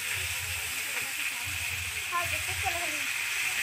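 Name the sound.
vegetables sizzling as they fry in hot oil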